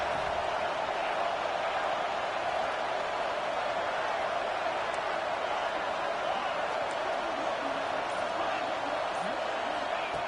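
A college football stadium crowd roars during a red zone defensive stand, a dense, constant wash of noise with no breaks, and a commentator talks over it.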